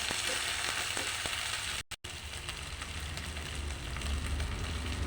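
Bhetki fish heads fry in a pan with onion and garlic, a steady close sizzle and crackle throughout, cut by a brief dropout near the middle.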